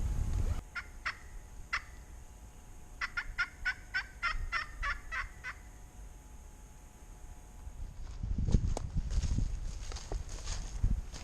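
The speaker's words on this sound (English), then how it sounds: "they're gobbling pretty good" Wild turkeys on public land in Nebraska gobble in several distant rattling bursts, one rapid run of about nine notes standing out, followed by close rustling and footstep-like crunching in the brush.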